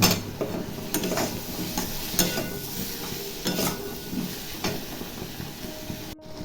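Tomato stirred and frying in a pan gives a steady sizzle, with repeated scrapes and knocks of the spoon against the metal close by and no voices.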